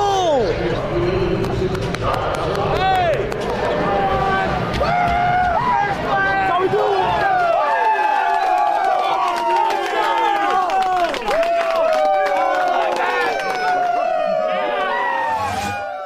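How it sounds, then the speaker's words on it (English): Crowd at a Michigan State hockey game celebrating a Big Ten regular season title over Wisconsin: sustained loud cheering, whistles and shouting filling the whole stretch, with a broadcaster's voice heard amid the noise. "Boy, that was some cheering right there"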